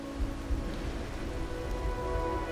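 Steady rain falls throughout a quiet night scene in the video game Wuthering Waves, a soft continuous patter with a low rumble underneath and no voices.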